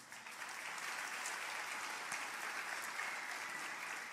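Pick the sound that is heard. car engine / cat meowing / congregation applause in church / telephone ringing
congregation applause in church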